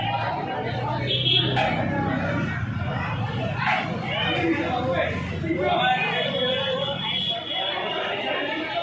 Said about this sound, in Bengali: ভিড় হয়, খুব পরিমাণে ভিড় হয়।